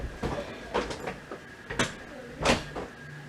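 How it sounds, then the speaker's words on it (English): A door closed indoors, a few soft knocks and slides ending in a firmer bump, close by and moderately loud, with brief talk around it. "Okay, close the door."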